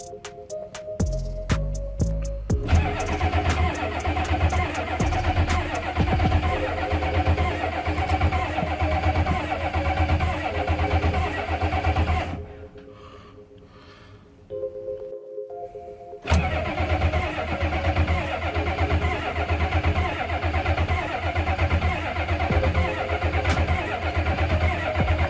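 A Ford F250 truck's engine started for the first time: brief cranking catches into a loud, steady running roar that drops away for a few seconds midway, then fires back up and keeps running close by.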